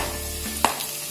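Tomatoes drop into a pan of frying garlic, ginger and coconut with a brief sharp clatter, then a steady hiss of sizzling, close and alone.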